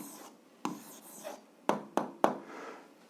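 Pen or pencil writing down an algebra answer on paper, close and quiet, with soft scratching and several sharp taps as strokes land; no talking.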